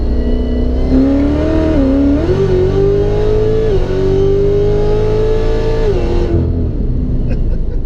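A high-horsepower car, an 800hp ZL1 or nitrous-fed 1000hp Z06, accelerating hard with a loud, continuous engine roar that climbs in pitch, drops at gear shifts, then climbs again before easing off, heard from inside the car.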